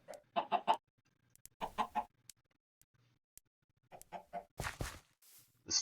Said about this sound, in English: This this chicken might actually just have to die.